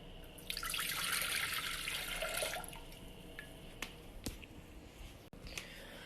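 Water runs from a tap into a container, filling four cups for boiling, a bright hissing stream lasting a couple of seconds, followed by quiet knocks and clinks.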